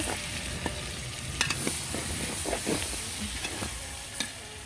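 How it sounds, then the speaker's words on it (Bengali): Meat fries with green chilies in a pan, giving a constant loud sizzle with repeated scraping stirs and clinks of the spatula against the metal. "কাঁচামরিচ দিয়ে আজকে কিন্তু মাংসগুলো ফ্রাই করতেছি"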